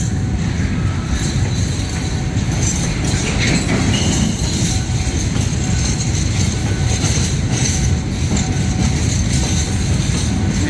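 Freight train 818, hauling empty flatcars, passes close by at Makkasan with a loud, continuous rumble and the clatter of wheels on rail, alongside faint squeals.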